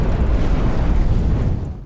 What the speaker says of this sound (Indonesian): Rei melemparkan granat ke tumpukan granat lainnya, dan lantas menimbulkan ledakan sangat besar